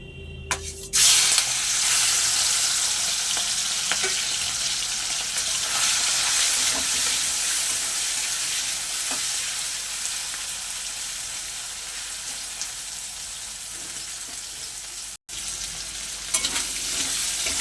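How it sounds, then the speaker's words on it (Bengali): Fish frying in hot mustard oil in a wok gives a loud, steady, dense sizzle that bursts in at the start and continues unbroken for many seconds, with occasional faint clinks, no speech. "সর্ষের তেল দিয়ে দিয়েছি তেলটা গরম হয়ে গেছে এবারে মাছগুলো দিয়ে দেবো"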